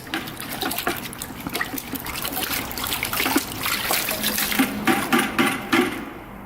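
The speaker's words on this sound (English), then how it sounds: "we'll go ahead and put this brush in the water so we can rinse it out" A brush is swished and rinsed in a bucket of water, giving a steady close trickling and sloshing with small splashes throughout.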